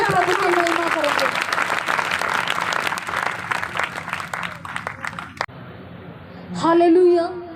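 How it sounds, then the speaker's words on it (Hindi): Church congregation at a Sunday service clapping loudly together in praise, dense crowd applause that thins out toward the end, with a voice speaking over it and a brief shout or cheer near the close. "अब वो आधा किलोमीटर चल के हम जोरदार तालियों से प्रभु की महिमा करेंगे।"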